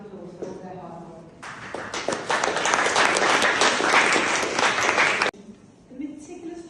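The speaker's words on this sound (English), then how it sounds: "Please a round of applause for all their hard work." An audience at a poetry and manuscripts event in a library gives a round of applause, a burst of close clapping lasting about four seconds that cuts off abruptly, with speech before and after it.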